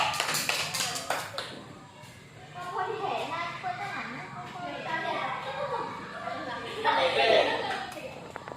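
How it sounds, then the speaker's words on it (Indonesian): Children in a classroom clap for a group for several seconds, a brief burst of hand taps that trails into scattered chatter and a teacher's voice continuing over the room noise. "Nah, silakan dulu, tepuk tangan dulu untuk kelompok 2"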